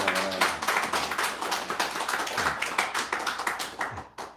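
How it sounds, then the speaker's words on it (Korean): A church congregation claps to welcome a newcomer during a Sunday service. The clapping is rhythmic and fairly close, a steady patter of hands that thins out toward the end. "환영의 박수."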